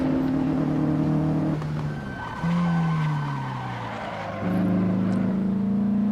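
Race car engine in a racing video game, holding a steady high-pitched drone that dips and rises again as it shifts and accelerates, with a tire skid in the middle.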